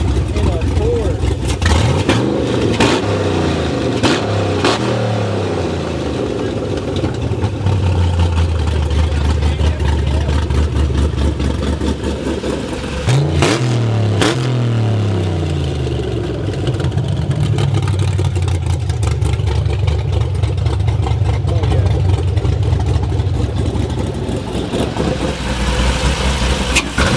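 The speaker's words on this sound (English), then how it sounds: "LS on a Porsche, cutouts. That should go from sounding smooth to sounding crazy if he want to." LS V8 swapped into a Porsche with exhaust cutouts, revving repeatedly at a car show; loud rising engine sweeps and a rough idle between blips, with people talking nearby.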